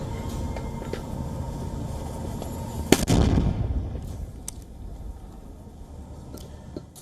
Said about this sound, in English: It says that it shows the militants allegedly firing mortars in Gaza as the war continues to rage on.